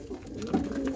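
Soft cooing of pigeons close by, a low murmuring call rising briefly in the middle of a short stretch.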